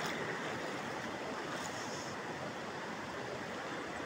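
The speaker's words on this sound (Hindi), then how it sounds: "पानी की कल कल करती आवाज़" Water babbles and rushes steadily at a rainy hillside spot in the morning, a dense, even hiss of flow with no pauses and no voices.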